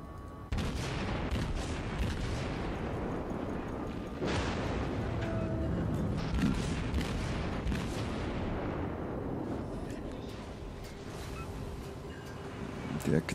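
Dense, continuous battle noise from naval gunfire in World of Warships, with heavy booms and rumbling blasts layered close together for the whole stretch while the ship is under fire, armor-piercing shells incoming.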